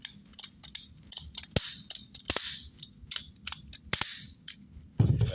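A RIDGID 60 lb T-handle torque wrench used in plumbing clicks as it reaches torque. Several sharp snaps and ticks come at irregular intervals over a light ratcheting rattle, close by and crisp.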